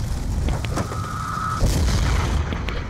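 A deep, rumbling bomb blast in Call of Duty: Black Ops 2 rolls out over low background noise, heavy and close, with a thin tone briefly ringing above it.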